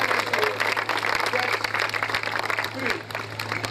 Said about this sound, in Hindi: तालियां बजाइए, खुदा को जलाल दीजिए